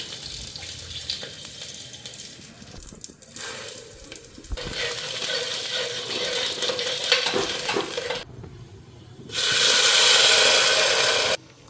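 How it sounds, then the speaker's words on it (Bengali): Dal frying in a tempering of cumin and dried chilli, a loud, shifting sizzle and hiss with stirring, breaking into a sharper, brighter burst of sizzle near the end. "এখন এদিকে জিরা আর শুকনো লঙ্কার সম্বার দিয়া ডালটা ভাজা বসামো।"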